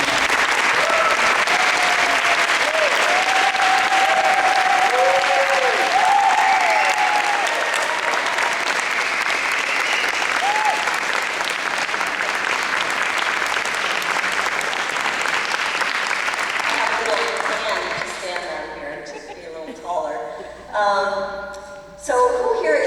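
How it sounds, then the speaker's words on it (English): Audience at a democracy convention plenary in Madison applauding a speaker's introduction, long loud sustained clapping with a few cheers, fading out as a voice begins talking at the end. "let's give a big round of applause"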